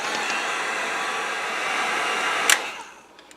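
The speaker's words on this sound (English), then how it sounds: "each time we put a coat on, we'll dry them, and I happen to use a heat gun" A heat gun runs steadily to dry a coat of paint on a fishing lure painted in a bluegill pattern, giving a loud continuous blowing whir with a brief click near the end before it fades.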